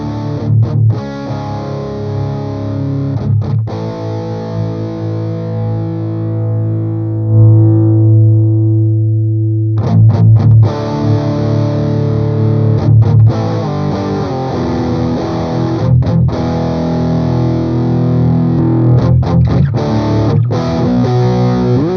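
Electric guitar played through an AmpliTube 5 Orange Tiny Terror model with heavy distortion, loud sustained chords and a long ringing note, then choppy rhythmic stabs with brief muted gaps.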